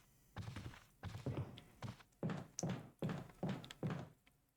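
A cabinet being pushed in the video game Resident Evil Remake, a series of dull, regular wooden thunks and scrapes in steady rhythm, fairly faint and close, no talking.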